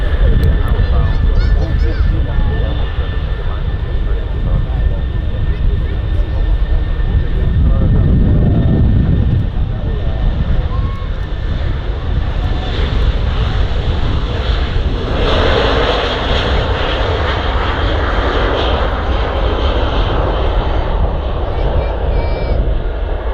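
An airliner takes off from runway 05L at Manchester Airport, bound for Edinburgh. Its jet engines give a powerful, steady roar that fills the whole stretch, close and loud.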